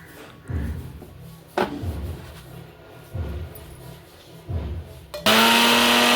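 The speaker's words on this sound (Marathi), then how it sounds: "आता भाजलेले तीळ पण मिक्सरवरती थोडंसं बारीक करून घ्यायचं आहे" A mixer grinder grinding roasted sesame seeds in a kitchen, running in several short loud pulses before switching to a sustained, steady high-pitched whir at the end.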